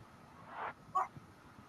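Dogs outside a house at night give a couple of short barks and a whimpering yip, close and clear against low background noise.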